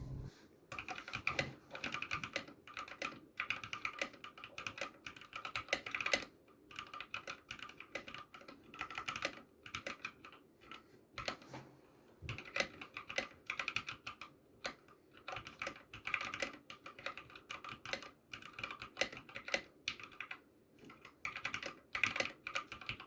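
Typing on a self-built gaming keyboard, a steady run of quick clacking keystrokes at close range with brief pauses, no talking.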